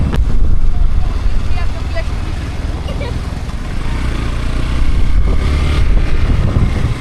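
Motorcycle riding in Ladakh in sub-zero cold, a loud steady engine drone mixed with strong wind rush throughout, close and continuous.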